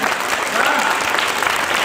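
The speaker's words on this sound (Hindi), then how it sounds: "एक बार तरह से और जोरदार ताली बजा तो मजा आ जाए" Crowd applause rings out at a kavi sammelan poetry gathering, a steady, dense patter of many hands clapping close by, with faint voices mixed into the clapping.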